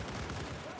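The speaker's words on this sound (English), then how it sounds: "Give me the gunfire from down here." Gunfire in the video game Battlefield 4, a dense, loud burst of overlapping shots that fills under a second with no clear gaps.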